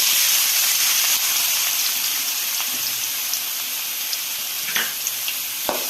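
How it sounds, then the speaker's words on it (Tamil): Chopped onions fry in hot oil with cinnamon, cloves and cardamom for egg bhurji, a steady close sizzle and hiss broken by a few sharp crackles and pops, with no talk. "இப்போ நம்ம கட் பண்ணி வச்சுருக்க வெங்காயத்தை சேர்த்துக்கலாம்."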